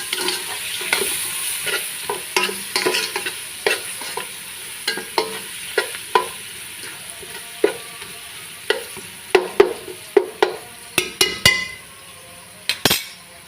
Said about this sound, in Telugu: అల్లం వెల్లిపాయ పేస్ట్ కూడా వేసేసాను అనమాట ఇవైతే బాగా వేయించుకున్నాము